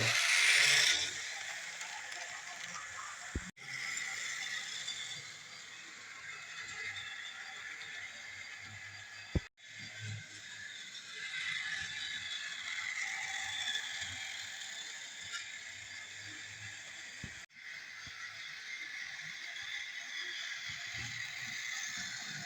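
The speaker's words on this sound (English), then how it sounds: "time to run the Great Western Rail Power Tank with some Great Western Rail coaches" A model railway Great Western tank locomotive runs with Great Western coaches, giving a faint steady mechanical whir and gear ratchet with a few sharp clicks as wheels pass rail joints.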